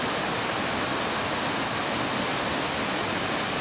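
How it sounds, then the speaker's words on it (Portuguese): A clean forest waterfall pours steadily in a hilly campsite setting, a dense, even rush of falling water filling the whole moment at close range with no voices. "encontrei essa bela cascata limpa e com água deliciosa"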